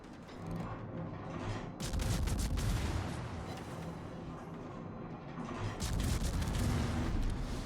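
Heavy naval gun salvos roar in World of Warships, with booming blasts and rolling artillery rumble layered over mechanical clanks, loud and sustained with surges near the start and end.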